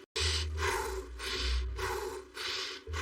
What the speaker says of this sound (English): 12 seconds of just heavy breathing